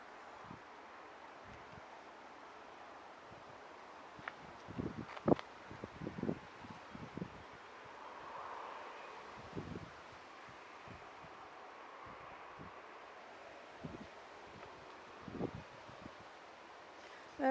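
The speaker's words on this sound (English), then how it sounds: "That wind had sliced right through you and all" Gusty wind blowing outdoors at an airport on an autumn evening, a steady broadband rush with a few louder buffets and rustles, no talking.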